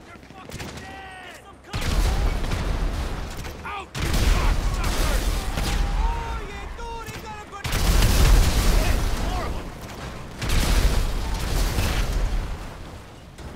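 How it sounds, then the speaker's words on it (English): Grenade launcher fire and explosions during a shootout in GTA 5: dense, loud bursts of blasts and gunfire come in several waves, with shouting voices mixed in. "Grenade launcher!"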